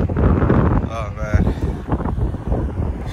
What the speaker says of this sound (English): It's really windy, I don't know if you can hear me